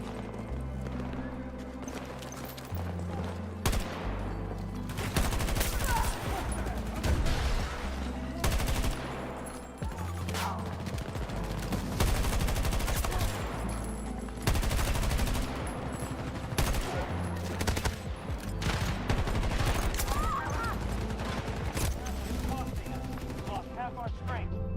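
Dense Battlefield 2042 combat gunfire: bursts of automatic weapons and sharp individual shots, some near and loud, others distant, piling up into chaotic volleys with brief lulls, while players talk over it.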